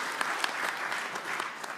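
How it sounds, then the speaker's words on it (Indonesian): An audience at an Indonesian political event announcing the 2024 presidential and vice-presidential candidates applauds a guest, a continuous, moderately distant wash of clapping with a few sharper individual claps standing out. "Hadir juga Bapak Sandiaga Uno, tepuk tangan yang meriah buat beliau"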